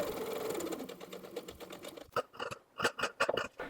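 A sewing machine stitches the upper edges of a neckband and facing, a fast whirring run that breaks into short, uneven bursts of stitching near the end, close and with no talking.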